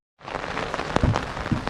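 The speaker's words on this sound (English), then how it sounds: "It's raining now" Rain falling at a mountain trek camp at Kheerganga, a steady wash of drops with a few sharper taps on nearby surfaces, close and moderately quiet, with no one speaking.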